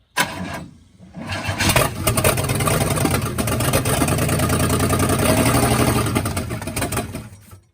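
An abandoned 1966 Cadillac Eldorado that sat for 40 years cranks briefly, then catches and roars into a loud, steady close-up idle that runs for several seconds before cutting off.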